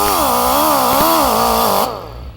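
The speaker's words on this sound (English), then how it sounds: "I do want to grind that down a little bit more and make it nice and flat" A power grinder works down a broken-off stud, a loud continuous whining drone that wavers in pitch as pressure changes, then abruptly winds down at the end.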